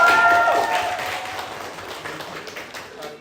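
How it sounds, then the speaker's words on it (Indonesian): A classroom of students clapping together for a classmate during a school lesson, the applause fairly close and fading gradually, with voices over it at the start. "Boleh tepuk tangan untuk Rizky semuanya."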